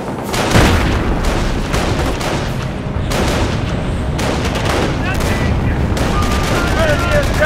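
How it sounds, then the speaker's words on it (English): Incoming artillery and gunfire in Company of Heroes 2, heavy booms and crackling shots layered into a loud, continuous battle din, with game voices calling out over it. "have incoming artillery!"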